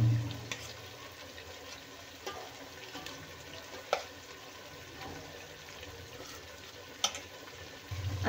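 Marinated eggs and spices stirred into hot oil in a pan for anda tahari, giving a steady low sizzle with soft scraping stirs and a couple of sharper clicks of a spoon against the pan.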